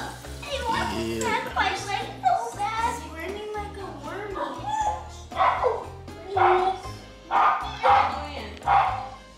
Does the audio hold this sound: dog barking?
yes